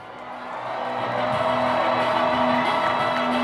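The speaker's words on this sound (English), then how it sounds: "This is the time for this sold-out crowd here in Memphis, Tennessee to get on your feet and give me your voices." A sold-out crowd at a Banana Ball baseball game in Memphis, Tennessee, roaring and cheering as a sustained, swelling wash of voices that grows louder and stays loud, with an announcer's voice over a PA system.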